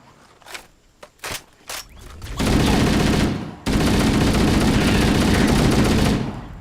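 Automatic rifle fire in the Halo remake video game, a few separate shots at first, then long sustained bursts of rapid gunfire, loud and close.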